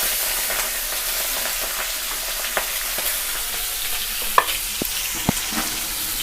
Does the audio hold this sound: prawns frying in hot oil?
yes